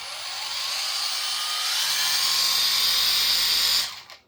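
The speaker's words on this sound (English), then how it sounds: "Let's see how it is when you turn it on with the DA." A Batoca dual action car polisher from a 2026 Graffiti Edition kit, run without its backing plate, whines steadily and loudly at high speed for nearly four seconds before spinning down and cutting off.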